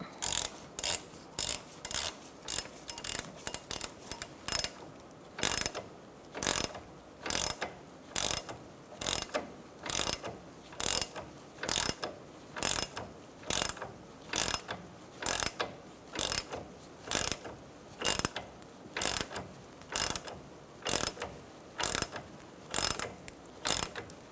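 A ratchet wrench cranks down a splitting tool on the front strut assembly of a 2004-2009 Mazda 3, giving a long run of regular, sharp metallic clicks in steady repeated strokes, close and loud with no talk.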